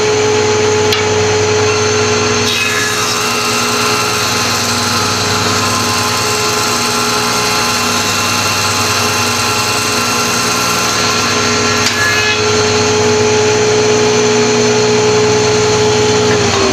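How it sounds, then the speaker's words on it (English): Woodworking machine in a club shop with its chip collector running: a loud, steady mechanical hum with tonal whine, continuous for the whole stretch, a brief shift around the start as the machine kicks in, no talking. "This thing runs, that puts the chip collector on. This starts the machine."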